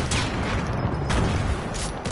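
Grenade blasts and rapid gunfire in a first-person shooter video game, a dense burst of noisy explosive hits with sharp cracks, loud and close.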